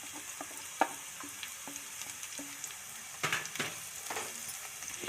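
Chillies frying in hot oil in a home kitchen pan while making kantola sabji, a steady close sizzle with scattered sharp pops and a brief louder burst of crackling near the end, no talking.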